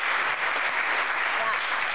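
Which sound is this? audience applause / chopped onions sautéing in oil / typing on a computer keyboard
audience applause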